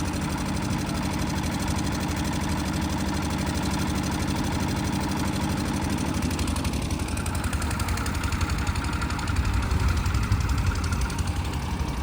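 A tractor engine drives a cutting attachment while brush and thorn bushes are cleared at a roadside canal works site. A steady, loud, low drone holds throughout with a faint rhythmic knock, and a slight surge near the end.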